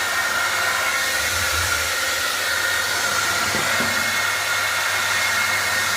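A Philips BHD538/30 hair dryer runs on its higher speed setting, a loud, close, steady rushing airflow with a constant whine that holds unchanged throughout, with no voices.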